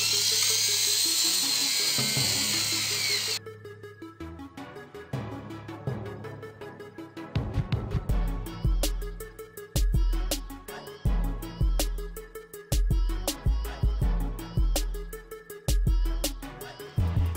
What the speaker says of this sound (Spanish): Y con nuestro otro siempre fiel Dremel. Con su puntita para pulir